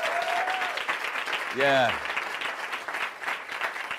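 Steady applause from a TV talk show studio audience, sustained throughout, with a brief shouted voice partway through.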